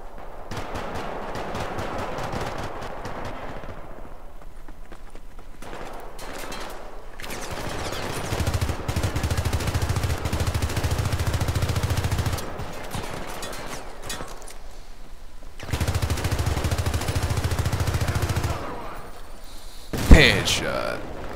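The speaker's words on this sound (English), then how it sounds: "It's like an automatic shotgun kind of thing here." An automatic shotgun fires in the video game Syndicate, delivering long bursts of rapid, loud, booming shots separated by pauses and ending in one sharp blast, with a voice talking over parts of it.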